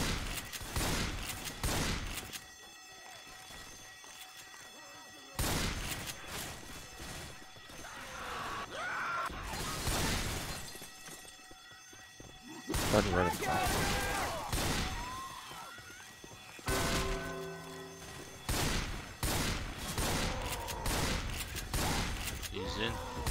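Gunfire in Left 4 Dead 2 during a competitive match, with intermittent clusters of shots and crashes breaking in between stretches of players talking over each other.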